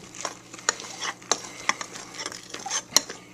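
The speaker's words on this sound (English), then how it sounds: "I'm going to go ahead and stir this." A spoon stirs a Waldorf salad with walnuts in a bowl, giving a few soft scraping and clinking knocks at irregular intervals, close up and fairly quiet with no voices.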